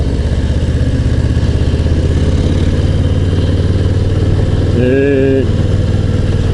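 Harley-Davidson Low Rider ST motorcycle engine while riding, a loud, steady, deep rumble that runs throughout, with a brief voice heard over it near the end.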